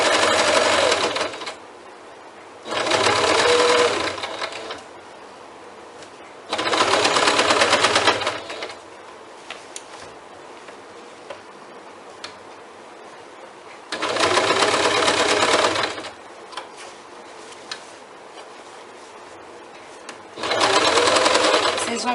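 A sewing machine stitches bag fabric in four loud bursts of a few seconds each. Between the bursts come quiet pauses, while someone talks through the clip.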